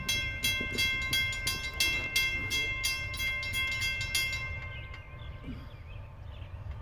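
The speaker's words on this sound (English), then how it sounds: "we got a westbound on CSX freight train" A westbound CSX freight train rolls past nearby, its wheels clattering in a steady rhythm over a low rumble, with a sustained horn tone before the noise eases.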